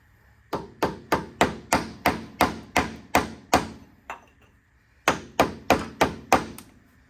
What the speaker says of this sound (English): Get a chisel.